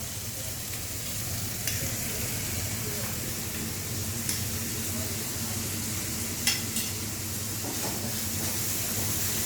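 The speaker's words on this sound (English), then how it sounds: "And let it fry with this lovely prawns." Greens frying with prawns in a pan for Indian-style egg fried rice, with a steady loud sizzle and hiss and occasional sharp spatters and stirring scrapes.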